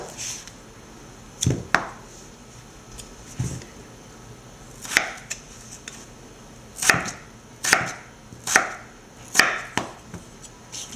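A knife cuts through potatoes lengthwise into wedges, each stroke ending in a crisp thud on the board, arriving singly and in quick pairs, close and alone with no talk.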